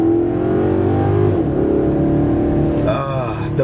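A Maserati GranTurismo Sport coupe engine revs loudly and steadily, its tone rising and falling before a sharper climb near the end, with a person speaking over it.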